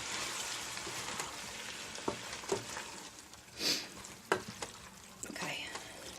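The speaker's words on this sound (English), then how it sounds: "let's give that a stir" A spoon stirs diced tomatoes with basil, garlic and oregano in a sizzling pot, giving a continuous frying hiss broken by several scraping and clinking knocks against the pot, close and moderately loud.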